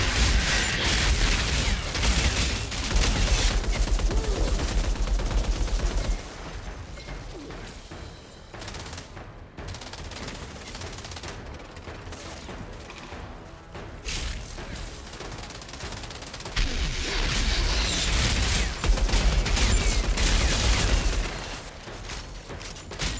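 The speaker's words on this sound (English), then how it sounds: "Who is shooting me? Who dares?" Dense bursts of automatic gunfire from the video game Outriders Worldslayer, loud and sustained at the start, thinning through the middle, then surging again near the end, with rattling mechanical clatter between volleys.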